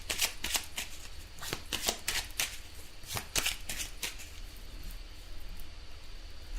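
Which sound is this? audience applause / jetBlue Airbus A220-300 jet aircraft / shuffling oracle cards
shuffling oracle cards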